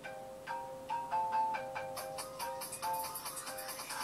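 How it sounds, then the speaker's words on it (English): A phone ringtone plays a repeating electronic melody of short bright tones, steady and fairly close, with no voices. "That's my ringtone. Someone's calling me."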